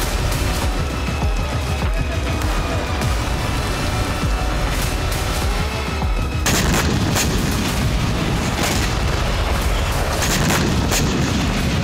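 Repeated booming blasts and sharp bangs from wartime explosions in Ukraine sound continuously, with a heavy, dense low-end rumble throughout and a louder section midway.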